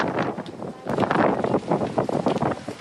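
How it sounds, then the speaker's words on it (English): A strong Santa Ana wind blows during a Southern California wildfire, a steady gusty roar and buffeting against the microphone that carries on for a few seconds with no talk. "the Santa Ana wind is fueling the flames"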